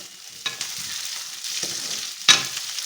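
Cashews frying in a pan give a steady soft sizzle, with a few sharper stirring clatters and scrapes over it and no voices.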